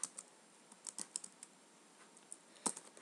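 Rapid keystrokes on a computer keyboard typing a search query, scattered light clicks with short pauses and a sharper burst of keys near the end, close and fairly quiet, no voices.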